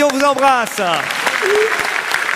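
Studio audience applause for a live radio show broadcast from the Docks Vauban in Le Havre, a steady clapping wash running under a presenter's voice throughout.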